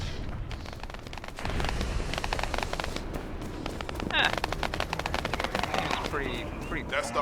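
Dense bursts of gunfire from The First Descendant crackle and rattle in rapid clusters, loud and close, mixed with explosive booms and game effects throughout.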